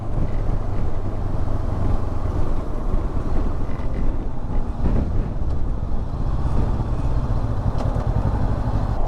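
Honda NX500 motorcycle, a 2024 model, under way on a road with a steady engine drone mixed with heavy, constant wind rush at the microphone, loud and continuous throughout.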